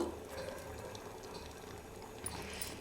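Horse gram sambar with coriander leaves boiling in a pot, a faint, steady bubbling simmer at close range with soft background noise and no clear talk.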